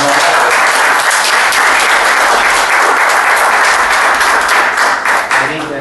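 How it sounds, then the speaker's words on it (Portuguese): Thick, loud audience applause at a year-end retrospective gathering fills the whole stretch with a steady clatter of many hands, easing off slightly in the last second. "uma salva de palmas para vocês aí que vieram"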